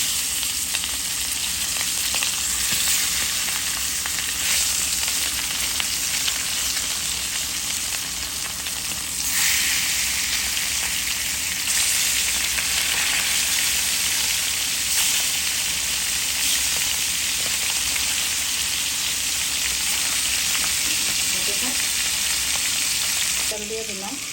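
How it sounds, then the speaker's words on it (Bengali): Tilapia fish frying in hot oil in a Bengali home kitchen, a steady loud sizzle and crackle that runs unbroken throughout, with occasional stirring and a faint clink near the end. "তেল দিয়ে দিলাম মাছ ভাজার জন্য।"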